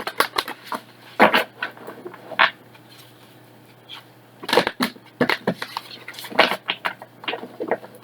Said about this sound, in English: And let's shuffle it to get y'all's energy in here.